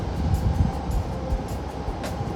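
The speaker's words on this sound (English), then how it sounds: "Every time I try to leave, I hear the sound of the train." A train rolls past near Nippori station by Tokyo's old Yanaka district, a steady low rumble with rhythmic clacking of wheels over rail joints, fairly close and continuous.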